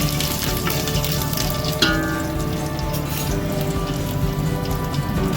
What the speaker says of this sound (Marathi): जिऱ्यानंतर त्याच्यामध्ये टाकलेला आहे कढीपत्ता थोडासा परतून घ्यायचं